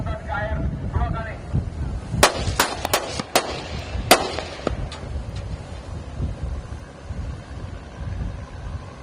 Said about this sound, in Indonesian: Berikan tembakan peringatan ke air 2 kali.